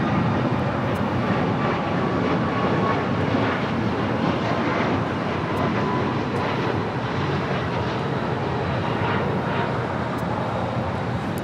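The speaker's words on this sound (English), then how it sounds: "This is Air Canada 555 taking off to Vancouver on a MAX 8" An Air Canada Boeing 737 MAX 8 jet takes off at Los Angeles International Airport. A loud, steady broadband engine roar and rumble stays constant through the whole stretch, with some wind noise and no voices.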